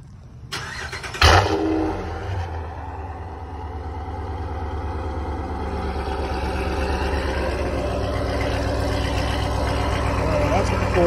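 A warmed-up Ram 1500 pickup engine cranks and catches with a sharp burst, then settles into a steady, gradually building idle rumble with a voice talking over it.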